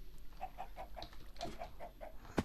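Minecraft pig squeals in a video game, a rapid string of short grunting oinks in two bursts, fairly close and moderately loud, with a sharp click at the end.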